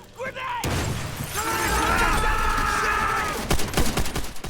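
Grenade blast and a sustained burst of gunfire in the World War II shooter Call of Duty: World at War, a sharp onset followed by loud, continuous rattling fire and crackling impacts, close and dense.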